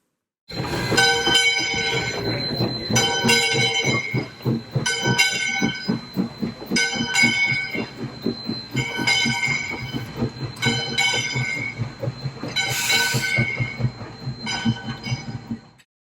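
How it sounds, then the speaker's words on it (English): A loud steam train rumbles along with rhythmic clattering and a steady whistle tone running throughout, continuous and close. "share a little tiny steam train adventure with Stanley"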